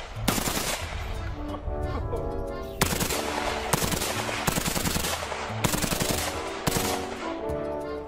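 A toy gun fires in long, rapid electronic bursts, loud and continuous, with brief restarts every second or so and musical tones ringing through.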